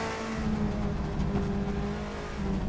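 A race car engine in a sim-racing game climbs steadily through the gears on the Nordschleife, its loud, continuous drone rising in pitch with each shift and no voices over it.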